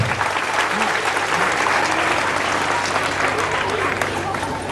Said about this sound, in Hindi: और अपने लिए ताली बजाइए